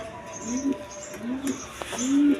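Pigeons, a pair of Gorra birds, cooing in three close, soft rising-and-falling calls, repeated at an even pace against light background noise.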